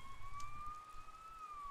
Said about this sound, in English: You hear sirens nearby.